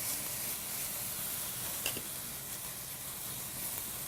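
Penne pasta ingredients with Italian sausage sauté in a pan, giving a steady, even hiss and sizzle that holds throughout, with one small pop partway through.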